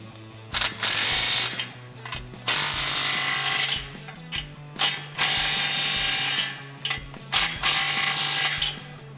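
A 9/16 ratchet wrench tightens an exhaust pipe clamp on a 2004-2006 Jeep Wrangler TJ Unlimited fitted with an MBRP cat-back exhaust, giving close, loud bursts of rapid clicking separated by short pauses.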